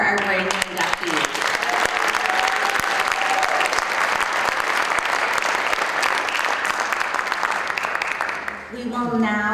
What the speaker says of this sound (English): One last round of applause for our brand new inductees.